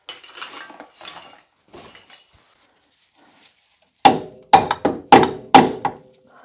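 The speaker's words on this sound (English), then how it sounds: "so I'm going to tap that in with a hammer" A hammer taps a BMW final drive (differential) into place with five sharp, ringing metallic strikes in quick succession. They follow a few quieter clinks and shuffles of tools at close range.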